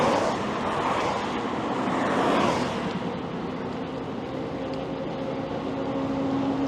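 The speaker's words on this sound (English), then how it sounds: "Oh, I hear a big truck." A big truck passes on a rural road along a village route while a cyclist rides, giving a loud, broad roar that swells then settles into a steady rumble with faint engine tones, close by and with no talk.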